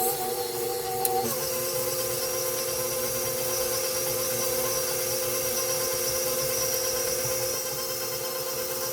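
Electric mixer beating eggs into creamed sugar and butter for sugar cookie dough, a loud steady whirring hum with a slight shift in pitch early on, running continuously without talk.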